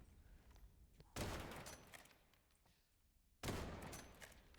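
Gunfire in the Rainbow Six Siege video game comes as two faint bursts of rapid shots, each starting sharply and trailing off, separated by quieter game ambience.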